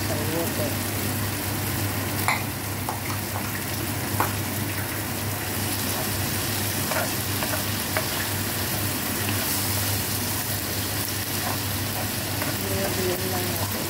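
Carrots and sayote cooking in a pan, a continuous close sizzle and crackle of frying with occasional stirring scrapes and clinks, steady throughout, with a voice speaking over it at times.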